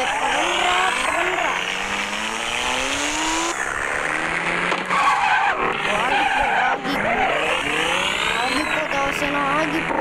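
A car in the video game GTA V skids hard, its tires squealing loudly and continuously with sweeping pitch changes over a revving engine, the screech dominating the whole stretch.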